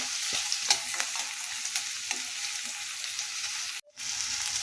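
Onions frying in a pan over a medium flame, a steady close sizzle running throughout with occasional stirring scrapes and a brief dropout near the end, no talk.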